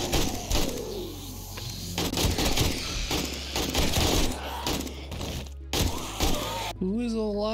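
AK rifle gunfire in the survival video game 7 Days to Die, sharp shots scattered under a player's ongoing talk, with a brief burst near the end.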